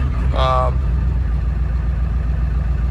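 A 7.3 Powerstroke diesel truck engine running a drag ripper tune idles at high RPM with a steady low, loud rumble, while someone speaks briefly over it.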